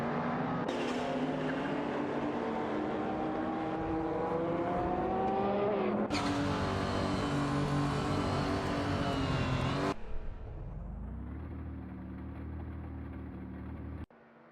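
Race car engines in a racing video game, including a Ferrari 512 TR and a De Tomaso Pantera, roaring at sustained high revs with rising pitch, then a sudden shift to a lower droning engine note, loud and continuous with no voices.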